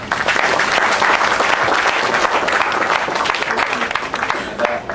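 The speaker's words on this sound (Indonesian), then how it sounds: "kita aturi tepuk tangan bareng-bareng" Sustained applause from an audience at a Kenduri Cinta public gathering, dense and steady across the whole stretch, with no break or fade.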